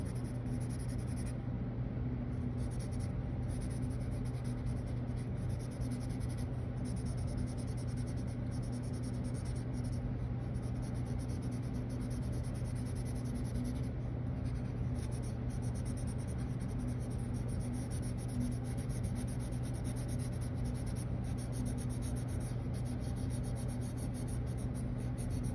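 A pencil held far back shades lightly across paper, coloring a drawing with a continuous soft scratchy rubbing that goes on steadily and close up.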